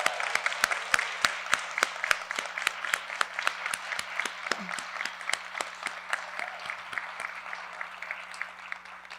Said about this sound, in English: Now let's have all the winners stand for one more round of applause.